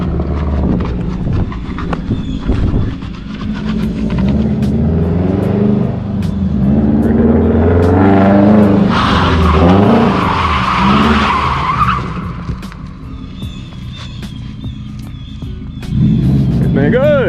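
Tires squeal and skid through handbrake drift entries on a Nissan 350z, a long loud screech swelling mid-run over engine roar, with people talking throughout.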